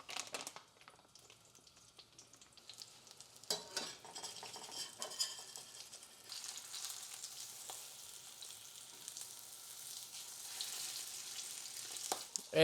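Chicken breast fries in heated oil in a pan, a faint, steady crackling sizzle broken by occasional clinks and scrapes of a utensil, quiet and close with no talking.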